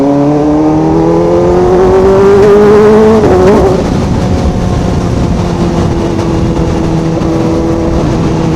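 Large trucks pass close on a road while a ZX4RR motorcycle rides alongside, their engine drone loud and steady, with a tonal whine that rises and then drops sharply as one rumbles by.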